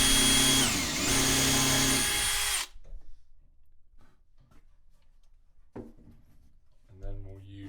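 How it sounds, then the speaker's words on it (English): A power drill bores a small hole in a kitchen cabinet beside a hinge plate, loud and close with a steady whine for a few seconds before stopping; brief clicks and a short burst of motor follow. "we're going to drill a hole right here, and I'm going to drill it right in front of this hinge plate"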